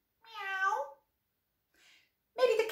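A voice imitates a cat, giving two drawn-out meows separated by a pause, with a faint bit of sound between them; close and clear.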